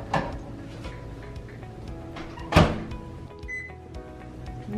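Close, steady hum of a microwave oven on its highest setting, hard-boiling eggs in an egg pod, with small clicks and a sharp clatter partway through, no talking.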